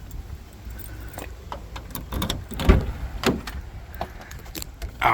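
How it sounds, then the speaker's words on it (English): Car keys for an abandoned beater car jangle in a garage workshop with a vehicle hoist: light metallic clinks and rattles in scattered bursts, close by, with a few duller knocks among them. "We got keys."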